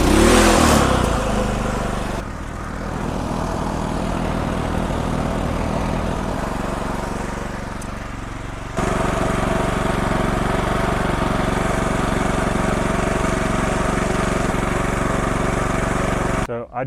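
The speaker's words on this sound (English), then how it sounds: "So to start this generator, first thing you're going to do is you're going to flip the switch to on." A 4000W portable inverter generator, a loud pull-start burst followed by a steady close-up engine hum that shifts up in speed and level partway through, then runs evenly until it cuts off.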